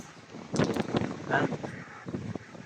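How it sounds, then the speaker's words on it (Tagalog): Strong, whistling wind from Super Typhoon Uwan in Sta. Rosa, Laguna, under Signal No. 3, rushes steadily past the microphone, with muffled voices faintly underneath. "Malakas na yung hangin mga kasama. Ramdam na dito. Sumisipol na."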